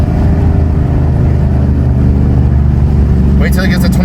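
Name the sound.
car engine roaring on paddle-shift downshift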